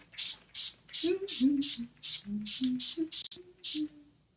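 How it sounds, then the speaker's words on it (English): Rapid bursts of hissing spray, about ten short pumps in a steady rhythm, close up, with a person talking quietly between the sprays. "So you spray it, it makes a very fine mist."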